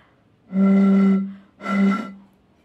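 Two sustained breathy tones from blowing across the mouth of a bottle holding 8 cm of water, a long note followed by a shorter one, close and loud with clear harmonics.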